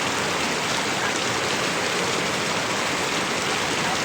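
Heavy rain pours steadily on a vegetable garden, a dense, unbroken hiss of close downpour with no other sounds.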